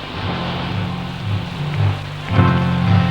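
Steady rain falls on a surface, a loud continuous patter with a faint low hum beneath, and a brief heavier swell near the end.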